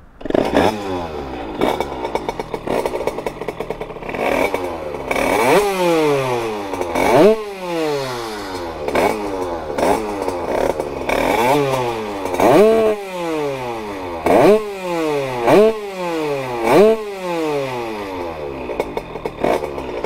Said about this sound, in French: Je vous démarre à la moto et je vous laisse apprécier le bruit